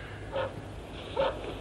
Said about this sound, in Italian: Signora Schmidt, perché abbaia il cane?